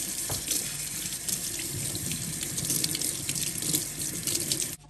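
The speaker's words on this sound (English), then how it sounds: "I'm gonna wash our cilantro." Cilantro being washed under a running kitchen tap: a steady, close, fairly loud stream of water splashing into a sink, continuous for the whole stretch and then cutting off abruptly at the end.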